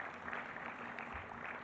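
An audience at a testing-services launch event claps again, a quiet, even patter of hands that continues steadily for a moment without voices.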